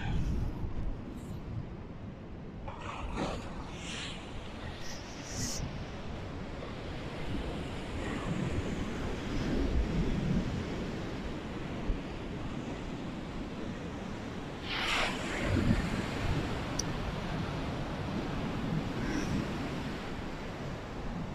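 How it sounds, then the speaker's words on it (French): Ocean surf rolling onto the beach at Pont du Diable near Royan, France, in January, a steady broad roar of breaking waves with wind buffeting the microphone, swelling at times, no talk. "Donc là on voit les vagues."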